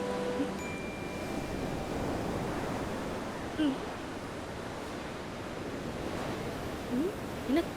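Broadband surf of sea waves washing onto a shore, a steady wash with a few brief swells, heard at moderate level without any speech.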